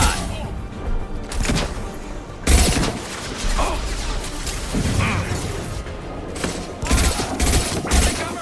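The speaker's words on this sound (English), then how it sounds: "Firing a high impact shot." High-impact gunshots in the Mass Effect 2 video game: several loud, booming blasts at irregular intervals, mixed with game effects and an in-game voice talking in between.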